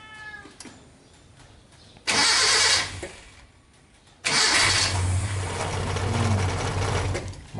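A Toyota Kijang engine with old, brittle engine mounts being cranked by its starter in two attempts, a brief whirring crank and then a longer one that carries into a steady close running rumble.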